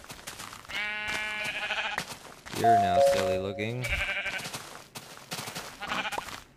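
Sheep being sheared in Minecraft, with several wavering bleats in a row and a person talking over them.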